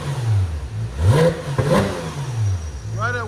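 A 2019 Porsche 911 GT3 RS with muffler delete and open valves revs repeatedly, its engine note rising and falling in loud swells, with a brief whirring chirp at the end.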